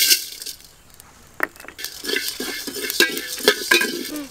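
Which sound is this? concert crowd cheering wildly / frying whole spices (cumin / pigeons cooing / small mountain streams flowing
frying whole spices (cumin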